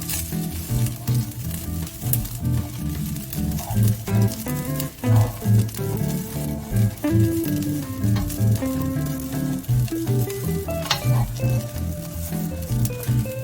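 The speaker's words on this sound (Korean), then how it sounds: "중불에서 골고루 뒤적여가면서 볶아주십시오" Shredded dried filefish stir-fries over medium heat in a frying pan, giving a loud, continuous close sizzle with scraping and clinks from stirring.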